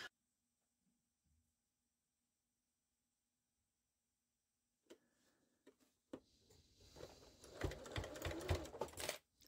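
A sewing machine stitches all the way around a fabric cup sleeve. Near silence comes first, then a few faint clicks, then a steady close mechanical whir with clattering ticks that runs to the end.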